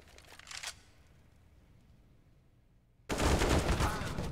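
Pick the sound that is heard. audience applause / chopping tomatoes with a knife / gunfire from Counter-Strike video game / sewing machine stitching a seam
gunfire from Counter-Strike video game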